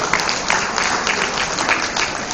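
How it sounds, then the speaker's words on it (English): Applause for a guest of honour at a formal dinner during a women's conference, a steady, dense wash of clapping from a hall crowd, continuous and fairly loud for the short stretch. "can we give a round of applause to Yang Rambahaja Puan Sri"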